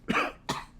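A man coughs up blood in three harsh, wet, close coughs. The first is the strongest and the others come in quick succession.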